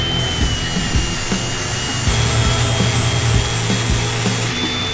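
A Harley Softail part being smoothed by hand into a rounded edge, with a steady scraping, rubbing texture over a constant background hum throughout.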